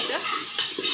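Potato pieces with chilli powder and turmeric sautéed in a pan: a brief, close burst of sizzling with two or three quick scraping stir strokes.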